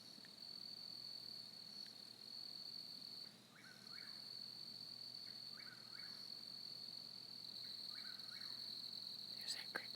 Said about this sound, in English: There's that cricket.